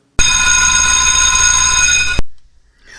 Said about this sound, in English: the tardy bell rang right after they stepped into the room